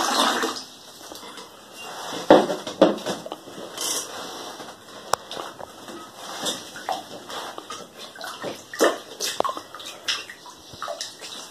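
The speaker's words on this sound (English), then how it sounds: "Peter, washing your feet is enough" Feet are washed in a basin of water during a church worship enactment, with irregular splashes, sloshing and dripping close by, some sharper splashes standing out, no talk over it.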